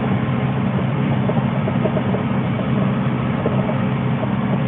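A Kubota M70-60 tractor engine running steadily while raking hay on terraced fields, a continuous loud low drone heard from inside or near the cab with no voices.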